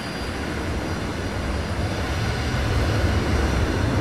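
Aircraft engines drone steadily around an aircraft carrier deck in a flight video game, a dense low roar that swells slightly louder toward the end, with no voices.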